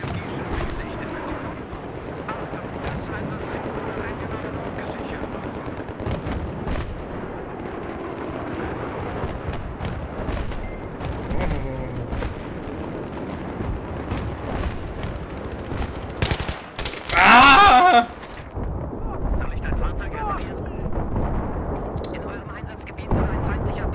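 Battlefield 3 combat on Operation Firestorm in conquest mode, with rumbling explosions, bursts of gunfire and a tank in the mix, a loud blast near the end, while a player keeps talking over the battle.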